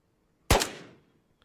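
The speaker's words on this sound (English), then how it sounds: "I can hear gunfire." A single gunshot in the video game Ghosts of Tabor on Tabor Island cracks out sharply at mid-loud volume, then decays in a short echoing tail with no talk over it.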